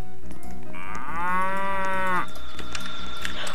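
A video game cow lets out one long, loud, close moo of about a second and a half as it is flipped over, standing out over a steady background of game sounds.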